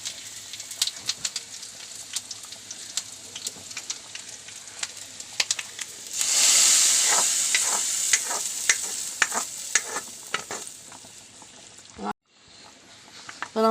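Hot tempering of oil and onions poured into a fish curry, a loud burst of sizzling and crackling in the middle that settles into stirring and frying noise, ending with a brief cut.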